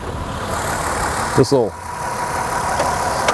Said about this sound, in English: Could be an oil leak too that might have cropped up, but engine runs smooth.